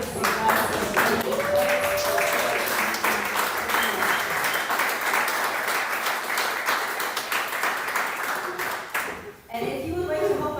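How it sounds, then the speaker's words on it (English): A room full of people applauding, with the audience standing and clapping steadily at a career-program presentation. The clapping runs for around nine seconds and then cuts off, followed by a short stretch of other sounds. "Can everybody just stand and give him a round of applause?"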